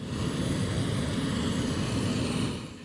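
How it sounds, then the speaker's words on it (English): A 23-year-old Antonov An-140 regional turboprop on the apron gives off a steady, loud droning roar with a broad propeller and engine hum that holds constant, then eases slightly at the end; no talking. "It's a 23-year-old Antonov AN-140, the only one in Sich's 11 aircraft fleet at the time of filming."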